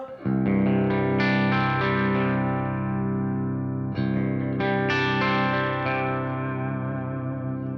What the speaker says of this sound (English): This is my clean sound. It's a simulation of a Fender type amp.